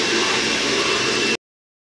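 A juicer machine whirs steadily while blending juice with milk, a dense, even motor hiss close up that cuts off abruptly after a second and a half.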